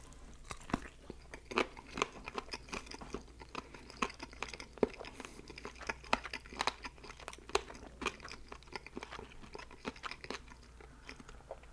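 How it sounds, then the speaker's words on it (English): Someone chewing on cartilage from Popeyes fried chicken, with irregular crunchy, moist bites and crackles up close, steady and fairly quiet with no talking. "I think I was chewing on some cartilage there."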